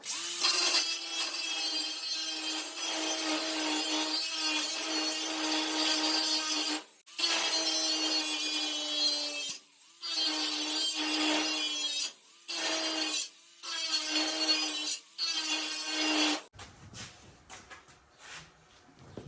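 A power cutting tool slices a piece out of a 1969 Dodge Coronet rear clip, a loud steady whining buzz cut into several bursts by short pauses before it stops.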